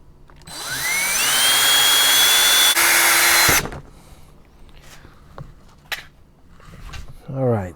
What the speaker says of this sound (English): I'm going to drill some holes so that I could screw it with 4